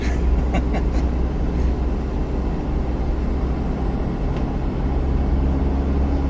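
A bus coming down a winding mountain road off the range with its exhaust brake engaged, giving a steady, loud, unbroken low drone and rumble that runs continuously throughout, with no voices.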